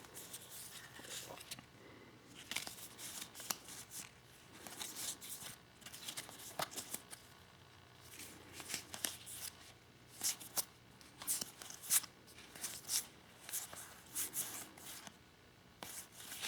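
Board game cards from a deck being shuffled by hand, close and quiet, with repeated crisp riffles and flicks in irregular bursts over a faint room background.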